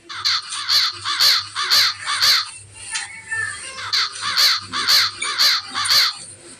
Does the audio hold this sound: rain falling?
no